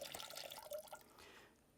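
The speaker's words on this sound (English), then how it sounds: "Doesn't matter how fast you pour, how slow you pour, what angle you pour on, it always dribbles" Water is poured into a measuring cup while weighing it out for an equilibrium brine for curing bacon, giving a faint, close trickle and dribble that fades out at the end.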